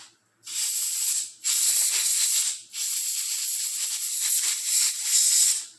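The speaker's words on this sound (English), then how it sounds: "You can even take some canned air." Canned air blasting grease out of cleaned bicycle parts in three long, loud, close hissing sprays with short gaps between them.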